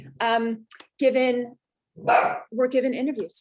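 A dog barks in a few short bursts, close by, breaking in between a person's spoken words.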